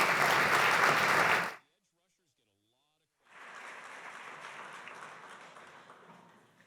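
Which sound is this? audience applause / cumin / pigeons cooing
audience applause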